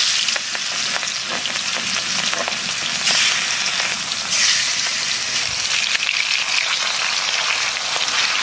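Pumpkin greens with crushed garlic and black cumin frying in hot oil, a loud, steady sizzle with occasional stirring scrapes close up.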